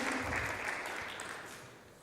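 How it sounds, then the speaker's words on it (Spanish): An audience gives a strong round of applause for maestro José Rentería after his performance on stage, a dense, steady wash of clapping that fades slightly over two seconds. "quiero que lo despidamos también con un muy fuerte aplauso al maestro José Rentería"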